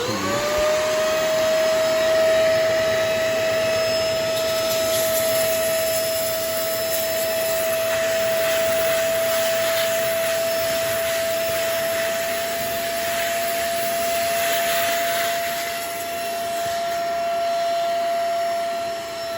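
A Fakir PR7020 steam cleaner runs in steam and vacuum mode, holding a loud, steady motor whine with a constant high tone and a broad airy rush, close and unbroken, with no voices.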